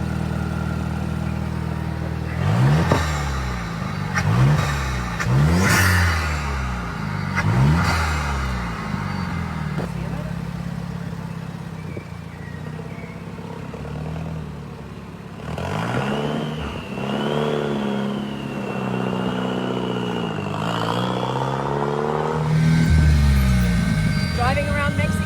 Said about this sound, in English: Driving around Mexico City in the Vool, the supercar here.